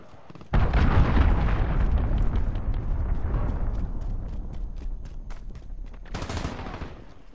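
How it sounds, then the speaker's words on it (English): Cruise missile explosion in the shooter game Modern Warfare, a sudden heavy blast followed by a sustained rumbling roar with crackling debris and a second sharp burst near the end. "Enemy cruise missile, take cover."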